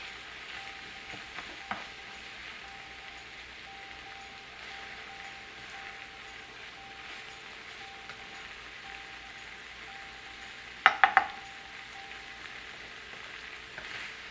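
Flour stirred into hot frying grease in a pan, a steady soft sizzle and crackle throughout, with a few brief utensil clinks near the end, close and without talk.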